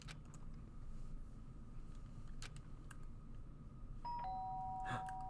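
A doorbell in the Danganronpa video game gives a single bright chime near the end, over a low steady hum and faint clicks.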